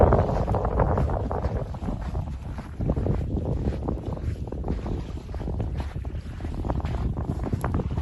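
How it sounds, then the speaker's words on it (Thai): Strong wind buffets the microphone at a lakeside beach resort, a steady loud rumble with gusts swelling and easing throughout, no voices. "ลมแรงลมแรง"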